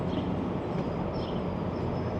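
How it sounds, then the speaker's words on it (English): An airport train rolls in somewhere in downtown Toronto. It gives a steady, loud, broadband rumble and rush that holds even across the whole moment, with no voices. "That looks like another airport train rolling in"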